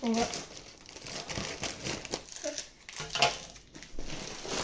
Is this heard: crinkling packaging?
yes